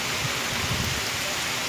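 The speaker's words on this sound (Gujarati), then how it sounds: "વરસાદ તમે જોઈ શકો છો આપણે કાઠિયાવાડની અંદર" Heavy monsoon rain in Kathiawad, Gujarat, a dense loud hiss of downpour with gusting wind, steady and enveloping throughout, no speech heard.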